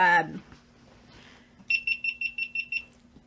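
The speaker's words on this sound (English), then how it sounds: "My beeping GoPro" A rapid run of about seven sharp electronic beeps from a GoPro camera, bright and evenly spaced, following a brief burst of voice at the start.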